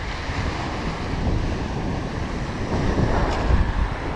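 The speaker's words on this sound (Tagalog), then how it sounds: "at lumakas na naman ng hangin." Strong, gusting wind buffets the microphone by the sea as waves wash steadily against the shore, a continuous loud roar with no voices.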